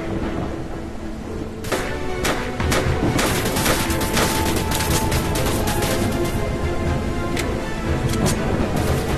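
Dense, continuous gunfire in the VR shooter Stellar Plans, rapid overlapping shots and impacts rattling on for several seconds at steady loudness with no pause.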